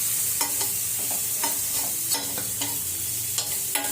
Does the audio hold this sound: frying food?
yes